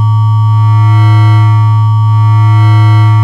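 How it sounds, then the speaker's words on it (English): A modular synth sine wave driven hard into clipping by wave shaping gives a loud, steady, buzzing distorted tone rich in harmonics, with a slow pulsing swell in volume. "You can push it to that clipping zone that sounds pretty good at audio rate like this."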